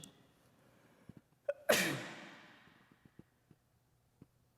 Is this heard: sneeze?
yes